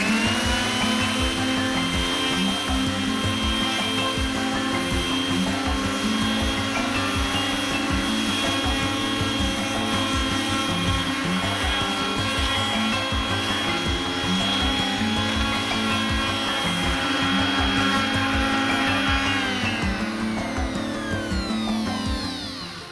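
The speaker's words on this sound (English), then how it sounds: "I got it all sanded down." Power sander working steadily across wood to strip green paint during a shed-to-house conversion, a loud continuous whirring grind that holds for about twenty seconds before winding down, with no talk.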